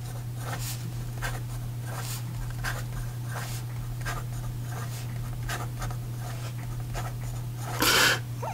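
A Cross Classic Century fountain pen writes quickly across paper, producing a rapid series of soft scratchy strokes with a brief louder scrape near the end, close up over a low steady hum.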